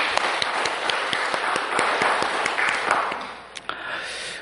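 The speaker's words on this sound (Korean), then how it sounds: "영광의 박수를 주님께 돌립시다." A church congregation applauds during a Sunday service, a dense, steady patter of many hands clapping that carries on for several seconds before easing off near the end.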